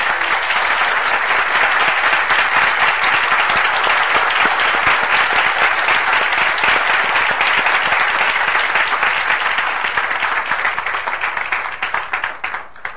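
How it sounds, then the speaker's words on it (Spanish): A church congregation breaks into loud, sustained applause for Jesus Christ during a sermon, dense clapping holding steady for about thirteen seconds before easing slightly at the end. "Yo creo que merece darle un aplauso al Señor Jesucristo."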